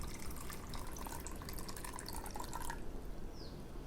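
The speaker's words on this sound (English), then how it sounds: "you need to add the same amount of water in the two bowls" Water is poured into a bowl for a greenhouse-gas science experiment, a soft continuous trickle that is quiet and close and ends near the finish.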